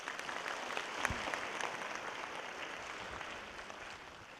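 A crowd of residents at a community cultural-city briefing in Gochang applauds a professor after her lecture, a broad, steady wash of many clapping hands heard from some distance in a hall.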